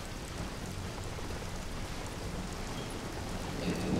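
Steady rain hisses and patters continuously at an even level in the video game Call of Juarez: Gunslinger, a dense wash of drops with no voices.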